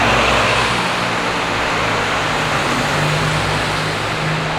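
A car drives through the Monaco tunnel, a loud, steady roar of engine and road noise echoing off the walls for several seconds without a break.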